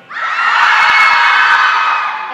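An audience at Weibo Movie Night 2023 screams loudly and continuously, a dense, sustained roar of high-pitched shrieks that rises quickly and holds steady before tapering slightly at the end.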